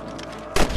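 Rifle shot at rabbits in a Red Dead-style western video game, a single sudden loud blast with a rough burst of noise arriving after a low game soundscape, close and brief.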